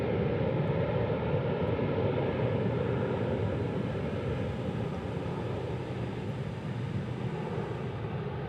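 A Frontier Airlines jet roars at DFW airport, a steady, loud, broadband rumble of engines with wind noise that eases slightly toward the end, no voices.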